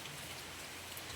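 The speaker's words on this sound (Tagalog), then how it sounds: "Nag-ulan na po din sa amo guys oh." Steady rain falls in an even, soft hiss with no clear individual drops, quiet and continuous throughout the short stretch.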